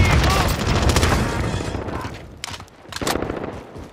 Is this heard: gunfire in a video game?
yes